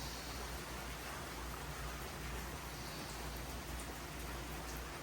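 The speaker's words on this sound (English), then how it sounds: "Still raining over here and dripping." Steady rain falling and dripping outdoors, a constant even hiss of moderate loudness with faint scattered drips and no voices.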